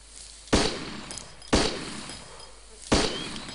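Three loud, well-spaced gunshots ring out in DayZ, each a sharp crack with a short decaying tail over a low steady hum.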